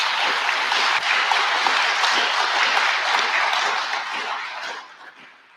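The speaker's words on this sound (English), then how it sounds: "I think they deserve a round of applause" Audience at a remembrance service applauds, a dense patter of clapping held steady for several seconds before thinning and fading out.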